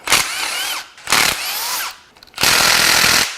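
A power tool, likely an impact gun, cracks loose bolts on a Toyota 3RZ engine during teardown, with three loud whirring bursts of rising and falling pitch separated by short pauses, close up with no talking.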